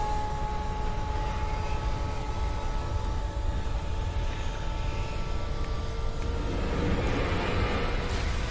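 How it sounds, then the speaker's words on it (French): Helicopter in the video game Alan Wake, a steady, loud mechanical drone with a constant hum that continues unbroken and swells slightly near the end. "le bruit d'hélicoptère qui fait flipper sa mère"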